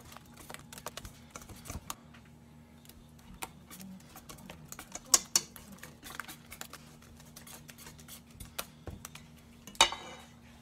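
Egg being mixed into takoyaki batter in a bowl, giving quick irregular clicks and taps of utensil against the bowl, moderately close and fairly quiet.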